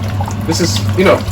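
Cold water is poured over raw potatoes in a cooking pot, a short splashing pour heard close up beneath a voice.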